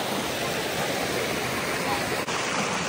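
A forest waterfall roars in a steady, dense rush of water throughout, loud and close, with no talk.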